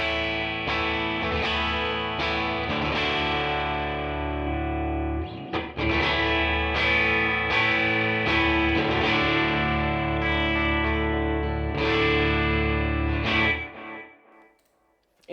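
Electric guitar through a Tone King Imperial MKII amp model, dry without room mics, strummed chords and picked notes ringing loud and sustained with slight grit, then fading out.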